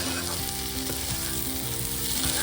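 Spice masala frying in a pan for a pointed gourd and rice dish, a dense continuous sizzle at close range with occasional stirring clinks and no talk.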